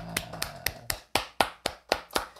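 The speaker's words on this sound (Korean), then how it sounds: "우리 하나님께 감사의 박수 올리겠습니다" A church congregation at a Wednesday worship service claps in unison, about ten sharp, evenly spaced claps landing roughly every quarter second, each ringing briefly in the hall, with no voices over them.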